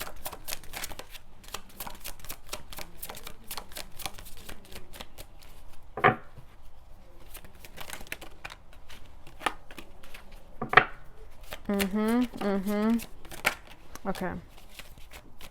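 A deck of tarot cards is shuffled repeatedly in a quick, papery riffling rhythm close up, with a few louder slaps and brief speech from a woman.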